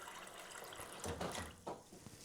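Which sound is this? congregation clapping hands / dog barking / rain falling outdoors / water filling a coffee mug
water filling a coffee mug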